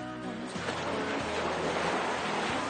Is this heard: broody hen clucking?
no